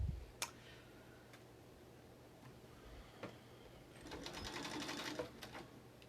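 A home sewing machine runs a short burst of stitching along a half-inch seam on a fabric mask, quiet and close, after a few faint clicks and taps.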